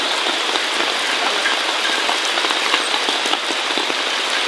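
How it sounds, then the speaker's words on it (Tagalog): Steady rain pattering on a surface, a dense, loud, unbroken hiss of drops close by with no voices. "Thank you Lord Jesus Christ for the rain"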